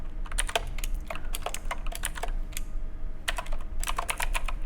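Bursts of keystrokes on a computer keyboard, clicking in quick irregular runs with short pauses between, close and clear over a quiet room hum.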